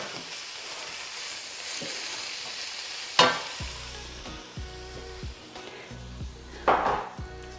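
Sautéed garden kale with chicken stock sizzles quietly in a pan as a spoon stirs it, with two sharp scraping strokes and soft knocks against the pan over the steady frying hiss.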